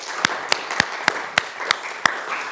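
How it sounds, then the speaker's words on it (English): A small recital audience claps for a performer, with sharp individual claps landing at a fairly even pace over a low murmur of scattered applause. "let's just give a round of applause just for her"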